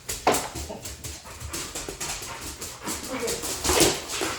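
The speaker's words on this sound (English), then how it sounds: "So this is how our dogs play." A small dog and a pit bull play together indoors, with whimpers, yips and panting in repeated short bursts, fairly close and lively, with voices in the background.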